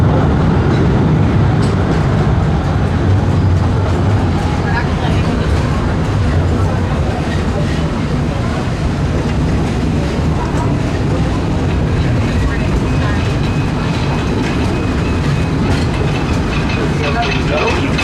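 Disneyland Railroad train rolling steadily along its track, a continuous loud rumble with wheel clatter, while a voice talks over it.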